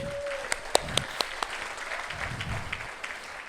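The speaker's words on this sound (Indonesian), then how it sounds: "Tepuk tangan ya buat Atomy." A few people clap at a marketing plan presentation, with sharp separate claps at first thinning into scattered, moderately close clapping.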